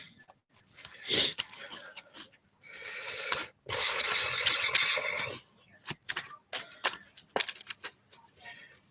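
A deck of Magic cards is shuffled at a table, with bursts of riffling and scraping card noise separated by short pauses, close and moderately loud.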